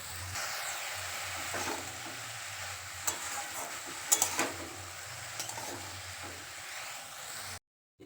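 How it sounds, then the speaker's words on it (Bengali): Water lily stems being stir-fried in spice paste make a steady, soft sizzle with scraping and stirring, occasional utensil clicks against the pan, and a low background hum before an abrupt stop near the end. "শাপলাগুলো এই মশলার মধ্যে দিয়ে খুব ভালো করে কষিয়ে নেবে"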